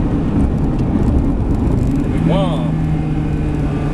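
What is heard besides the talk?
Ferrari 360 Spider sports car driving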